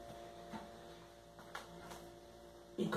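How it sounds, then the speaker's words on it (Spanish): Faint, constant mains-like hum from a refrigerator fills a quiet room, with a few soft ticks and clicks and a louder knock near the end; nobody speaks. "disculpen el ruido que se oye, es del refrigerador"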